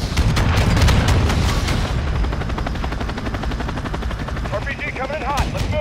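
Gunfire rattles at a vehicle in Call of Duty: Modern Warfare II (2022), mission High Ground. Loud, dense bursts of shots and booms ring over a droning helicopter, with radio voices talking near the end.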